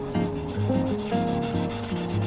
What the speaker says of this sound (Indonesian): Ini kita amplas lagi sampai benar-benar halus ya.